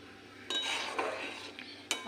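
A spoon stirring and mixing carrot payesh with kheer in a metal pot, a few scraping strokes and sharp clinks against the pot, close and moderately loud, without talk.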